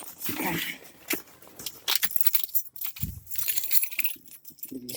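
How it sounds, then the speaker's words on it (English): A bunch of car keys rattles and jingles close by as it is handled and pulled out, in several quick metallic bursts separated by short pauses. "Get these keys out."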